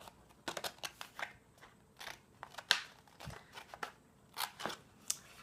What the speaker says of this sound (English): We're going to cut up this red score line.